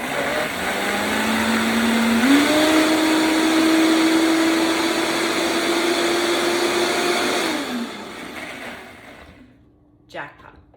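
A kitchen blender whirs through a chia seed mixture with honey, a loud steady motor whine that rises in pitch once, holds for several seconds, then winds down and stops, followed by a brief clunk.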